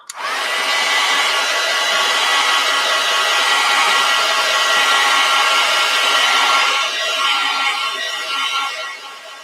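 Hair dryer blowing on acrylic paint on a snow globe cottage painting, a loud steady whirring hiss that starts abruptly, holds evenly, then shifts slightly in tone near the end.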